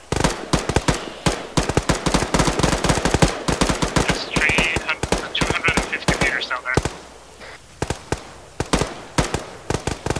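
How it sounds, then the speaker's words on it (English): Rapid suppressive gunfire in the ArmA 3 military game rattles in dense, loud bursts, with sharp shots nearly back to back before thinning out toward the end, and voices talk during it. "I can only, like, put in some suppressive shots"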